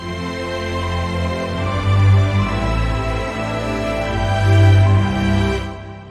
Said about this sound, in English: adding in this little ostinato that I just recorded in the piano and some flutes